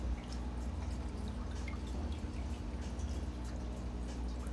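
Water overspills while a 40-gallon aquarium is being filled, with a low steady rush and a light trickle of drips and splashes that continue throughout.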